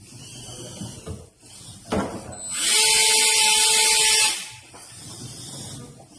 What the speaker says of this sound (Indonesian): kemudian mematikan menggunakan kipas motor brushless